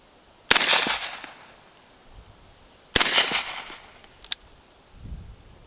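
Two sharp, loud suppressed rifle shots at an outdoor range, each ringing off a steel target and trailing a brief decay, followed by a quicker, fainter metallic tick.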